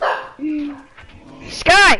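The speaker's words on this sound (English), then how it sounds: "Is that your dog? Yeah, that's my dog." A pet dog gives a single sharp, close bark right after a person calls out, following a brief stretch of talk.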